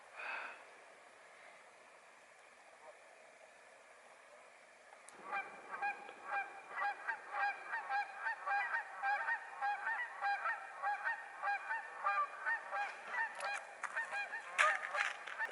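A large flock of geese honks close by, rising out of near quiet into dense, overlapping, repeated calls that keep going and get louder.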